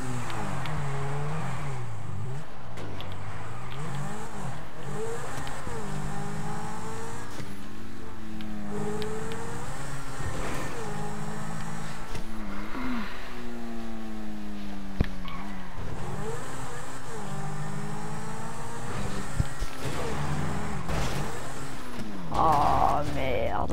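Cars race in GTA V with steady engine drone, shifting revs and occasional tire squeals and skids, loud and continuous throughout.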